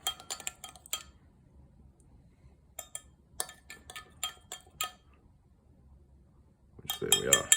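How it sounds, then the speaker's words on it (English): Powdered gelatin being stirred in a small bowl for a jalapeno cheesecake, a spoon clinking against the dish in quick bursts of taps with a quiet pause between, close and crisp. "Just stir in that gelatin until all the crystals dissolve."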